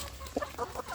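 A free-range village rooster gives a few short, soft clucks close by, in quick uneven bursts against quiet background noise.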